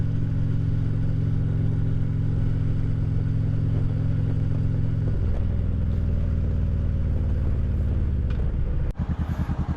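A 2016 Harley-Davidson Street Glide touring motorcycle being ridden, its loud, steady low engine drone shifting in pitch midway as the engine note changes, with wind rumble throughout.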